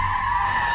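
A car skids to a halt with a short, loud tire squeal that holds a steady high pitch over a low engine rumble.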